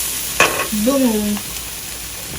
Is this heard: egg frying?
yes